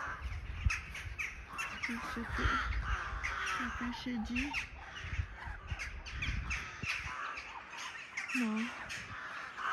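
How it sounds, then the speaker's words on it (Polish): Crows caw near a Baltic seaside spot at dusk, sending out repeated harsh calls in short runs above steady outdoor background noise while a person talks over them. "straszne są te wrony"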